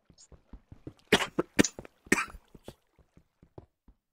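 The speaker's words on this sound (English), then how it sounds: "I was coughing, sorry." One person coughs in a fit of several sharp, close bursts, the loudest three grouped in the middle, with softer breaths and small throat sounds spaced around them.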